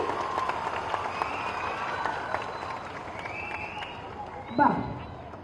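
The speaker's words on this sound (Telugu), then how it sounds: "గట్టిగా చప్పట్లు కొట్టాలి." Women at a certificate event held by a rural development society clap together in a steady, fairly subdued wash of applause, while a voice carries on speaking over it and a brief louder knock sounds near the end.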